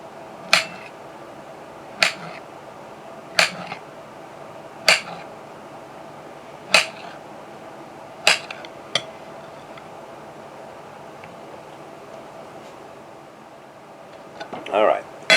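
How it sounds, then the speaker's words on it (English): A knife slicing canned pear halves on a tray, a steady series of crisp clicks as the blade strikes the surface about every one and a half seconds, close and clear over a quiet room. "we're going to have to slice them"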